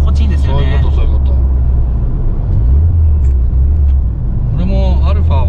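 Low, steady engine rumble inside the cabin of an Alfa Romeo 145, a deep droning exhaust hum running throughout while people talk over it.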